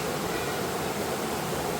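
A waterfall and flowing stream give a steady, dense rush of water, constant and fairly soft, with no voices over it.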